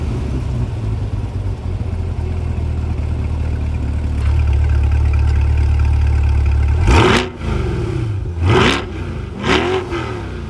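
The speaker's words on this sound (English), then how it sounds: "let's take a look at what it sounds like revved up a little bit in track mode" A 2020 Chevrolet Corvette Stingray C8 in track mode idles with a deep, steady rumble, then is revved hard three times in quick succession, each sharp rising roar falling back toward idle, loud and close with no talk.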